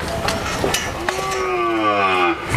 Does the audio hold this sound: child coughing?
no